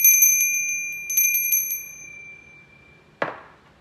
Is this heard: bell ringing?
yes